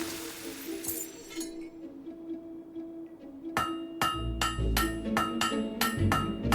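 Blade hammered on an anvil at a forge in the video game Fable 3: after a quiet stretch of low hum, a rapid run of about seven bright metallic clanging strikes rings out, close and loud.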